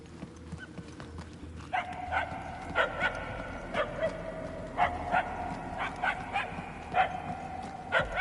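Repeated dog barks in the Guardians of the Galaxy video game, a string of sharp yips spaced about once a second over a steady ambient background, moderately loud and unaccompanied by talk.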